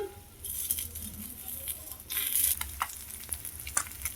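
An egg dosa sizzles in a pan, a steady frying crackle broken by bursts of brighter hissing and light clinks as it is turned and pressed, close and moderately quiet.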